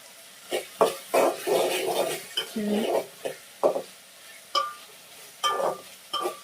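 Vegetables and curry leaves being stirred in a pan while cooking pasta, with irregular scraping strokes of a spoon against the pan over a soft sizzle, close and moderately loud.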